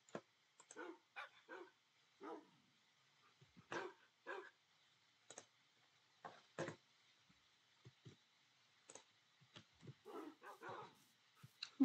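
Dogs barking in the Minecraft video game, a faint scatter of short separate yips and barks spread irregularly with quiet gaps between them.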